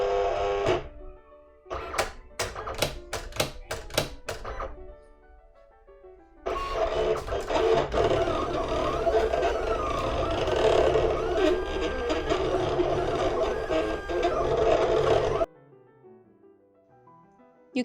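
A Silhouette Cameo die cutting machine starts with a run of sharp clicks, then whirs with motor and carriage movement for several seconds before stopping, close and alone.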